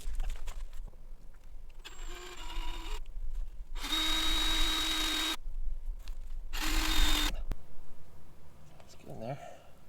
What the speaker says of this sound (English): So now I got to take it all back down, drill the hole, and go from there.